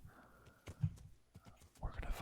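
Horse hooves in the video game Kingdom Come: Deliverance thud in a loose, uneven clip-clop, a handful of soft impacts spread across the moment, with a brief breathy whinny-like tone and faint background sound between them.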